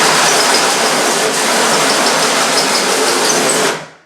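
A drill bores a hole through shower tile, a loud, continuous grinding whir held close and steady for several seconds before cutting off abruptly at the end.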